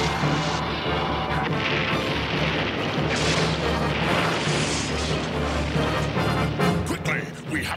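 Torpedo explosion in a G.I. Joe cartoon: a loud, sustained roaring blast and crashing rumble filling several seconds, with dense debris-like noise and dramatic soundtrack layered throughout.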